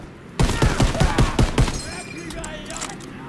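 Rapid gunfire in Call of Duty: WW2 during a beach landing: a loud burst of about eight evenly spaced shots, then fading rumble and scattered distant battle noise.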